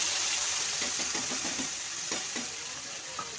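Onion paste sizzles and fries in hot oil with bay leaf and dried chili, a steady close crackle with stirring scrapes, no voices.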